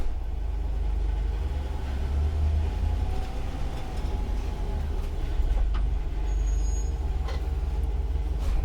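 Bus slowing to a complete stop with the service brake applied, a steady low engine and road rumble with faint air-brake hiss and squeals toward the end, no talking.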